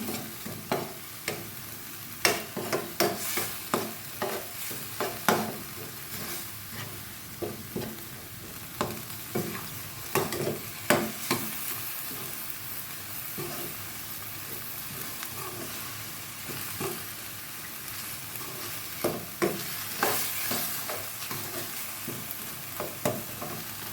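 Chili and garlic sizzle as they are stir-fried in a pan for a bamboo shoot and minced pork dish, with frequent sharp scraping and clattering strokes of a spatula over a steady frying hiss, close by and without speech.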